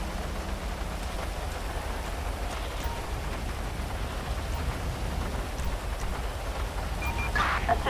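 Steady rain falls in the video game GTA V on a highway at night, a constant hiss of drops on surfaces with faint distant rumbling underneath and a few brief clicks near the end.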